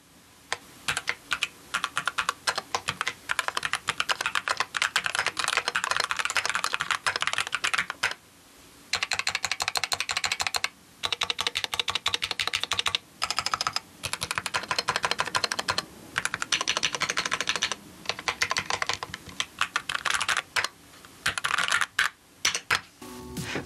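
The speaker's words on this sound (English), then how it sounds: "The board sounds fantastic with the Gateron switches, so if linear switches are your thing" Steady typing on a Keychron Q10 Alice-layout keyboard fitted with Gateron linear switches, a close, even run of clacky keystrokes with a few short pauses and no talking.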